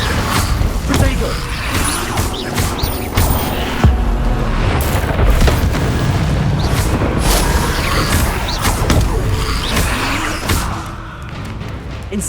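Incendio fire spells cast again and again during a fight in the Undercroft of Hogwarts Legacy, loud punchy bursts scattered through a dense, rumbling battle din.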